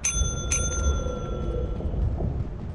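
A bell in the video game Lethal Company rings twice in quick bright strikes near the start, then its tone fades away under low background noise.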